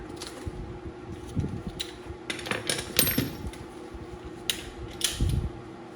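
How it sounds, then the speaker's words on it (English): A torque wrench is adjusted while a front hub bearing is replaced on a 2010 Town and Country, giving sparse close metallic clicks and ratcheting ticks over a quiet garage background. "Then set my torque wrench over here."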